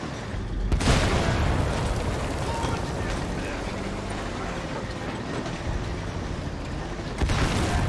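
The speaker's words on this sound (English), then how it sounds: "Oh my god, another explosion." An explosion booms within a mystery game: a sharp, loud blast near the start, a long rumbling roar that follows, and a second burst near the end.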